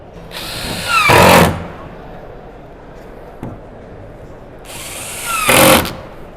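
A power drill driving in screws whirs in two short bursts, revving up each time, with a quiet pause of several seconds between them.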